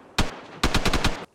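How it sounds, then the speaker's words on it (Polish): Video game gunfire crackles in loud bursts: one short volley, then a rapid automatic string of about eight shots, ending with another shot, heard without talk. "Strzały."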